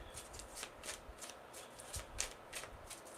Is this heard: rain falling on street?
no